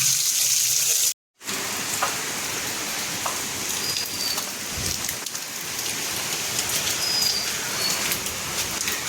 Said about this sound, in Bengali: সকাল থেকে বৃষ্টি হচ্ছে, এত বৃষ্টি হয় কিন্তু গরম কমে না।